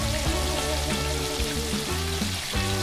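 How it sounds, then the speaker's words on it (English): Fish frying in hot grease outdoors, a continuous close crackle and sizzle with steady bubbling over a low background hum, no voices. "we got the last batch frying"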